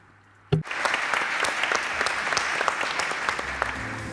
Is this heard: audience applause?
yes